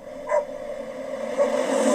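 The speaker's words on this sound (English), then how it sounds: "There's a dog with some puppies." A dog with puppies in an AI-generated animal rescue scene gives a couple of short, tonal barks and whines, close and fairly loud.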